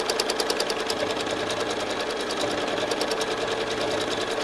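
A sewing machine runs steadily while free-motion quilting swirls across a quilt, its fast needle strikes forming a dense, even chatter close by, with no talking.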